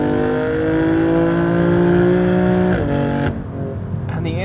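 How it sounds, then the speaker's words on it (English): A BMW M4 Cabriolet Competition's inline six engine holds a loud, high revving tone near the microphone, then drops off as the revs fall, the note rasping and deep. "the inline six sounds phenomenal, specifically at high RPMs"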